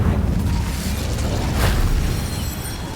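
The Incendio fire spell going off in the Hogwarts Legacy video game, a loud, sustained whooshing roar with a brief flaring burst near the middle that holds steady to the end.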